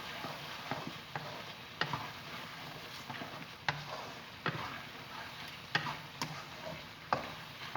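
Spices being stirred into tomatoes in a pan for chicken makhani (butter chicken): a spoon scrapes in irregular strokes over a soft, steady sizzle, with no voices.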